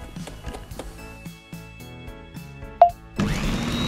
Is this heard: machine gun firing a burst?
no